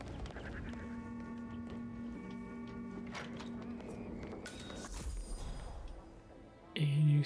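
Ducks quack and honk in the Dartmoor level of the video game Hitman 3, a busy flurry of fowl calls over ambient game sound, with a louder burst near the end.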